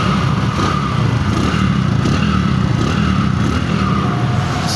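A Bajaj Discover 100cc motorcycle idles close by, its small engine giving a steady, loud, even putter that never changes pace.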